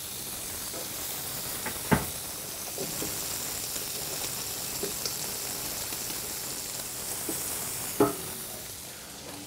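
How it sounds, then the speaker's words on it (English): Bacon sears and sizzles in a Scholtès MultiPlo, a steady close hiss of frying fat with a few sharp pops and crackles scattered through. "I'm just going to fry it until it's well golden and caramelized. It's searing already."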